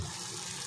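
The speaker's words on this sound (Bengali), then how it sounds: "দেখো এখানে আমি দিয়ে দেব 1 কেজি 250 জল।" Hot water pours steadily into a pot for chicken rice, a continuous rushing splash at moderate level with no voices.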